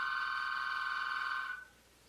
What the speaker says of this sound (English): the phone starts to ring.